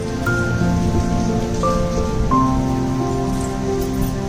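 Steady rain falls in a constant, even wash from start to finish, with sustained tonal music droning over it.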